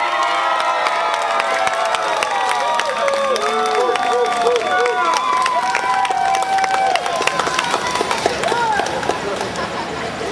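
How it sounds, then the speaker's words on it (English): A lively crowd at a games and giveaways event in Singapore claps and cheers for a contestant, with sustained loud clapping mixed with shrill whoops and shouts lasting the whole stretch. "clap as loud as you can. Okay, can we hear it for our very first contestant, Bailey?"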